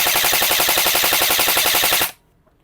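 An E&C 205-1 airsoft rifle fires on full auto in one loud, rapid burst of evenly spaced mechanical shots lasting about two seconds, then stops abruptly into near silence.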